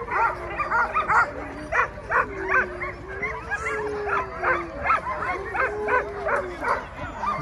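Sled dogs at a dog sled race yip, bark and howl in repeated eager bursts, close and continuous, with a rising howl running underneath and faint voices in the background.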